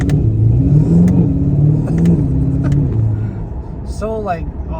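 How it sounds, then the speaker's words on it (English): A modified Chevrolet Corvette C8 with a dual-clutch gearbox accelerates hard, its loud close engine climbing in pitch through rapid gear shifts, with someone talking over it throughout. "you can see how just fast this car shifts. I love me a dual clutch."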